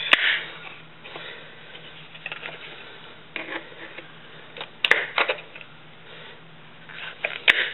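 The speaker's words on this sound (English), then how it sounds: "So you take your tin snips and just trim away the kydex." Tin snips trim kydex plastic sheet in a series of crisp snipping cuts and crunches at irregular intervals, close up, with a few sharp clicks between them and no speech.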